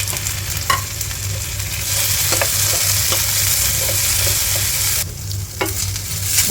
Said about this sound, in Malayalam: ഇഞ്ചിയും വെളുത്തുള്ളി എടുത്ത് വെച്ചാൽ അതൊന്ന് വഴറ്റിയെടുക്കാം